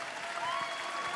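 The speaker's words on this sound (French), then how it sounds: "Vous pouvez les applaudir très fort" A television charity-event audience applauds singers after a duet: a steady wash of crowd clapping at moderate level, brief and continuous, with a faint tone and a little background noise mixed in.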